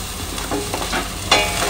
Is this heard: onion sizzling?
yes